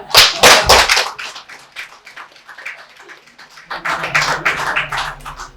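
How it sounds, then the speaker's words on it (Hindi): Participants at a trainer-training programme clap in two bursts: a loud, close flurry of sharp hand claps at the start, a quieter lull, then a second round of scattered clapping near the end. "और इन सर के लिए तालियां।"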